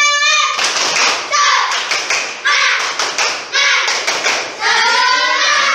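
Schoolchildren in a classroom repeat their spirit clap, patterned rounds of loud group clapping and slapping beats blended with chanted voices, close and energetic throughout.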